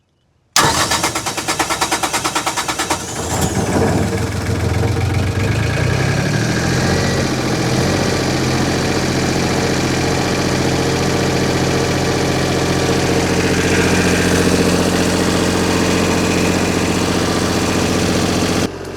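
A USMC flood light set generator engine cranks for about two seconds, catches, then settles into a loud, steady running drone with a constant low hum, close by and with no talk.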